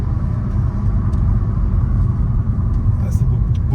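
A Peugeot 308 GTI pulls hard down a straight, its engine a steady loud low rumble throughout with occupants talking faintly over the cabin drone.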